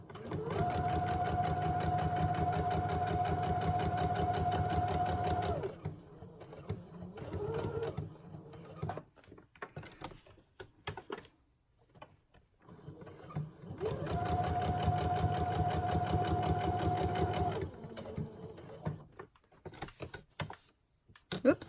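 A sewing machine stitching paper craft tags runs in two steady whirring bursts of several seconds each, with quieter handling and brief talk in the pause between.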